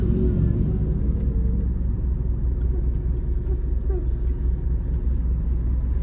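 A low, steady engine rumble of a car fills the clip, with road noise and faint sounds of other passing vehicles.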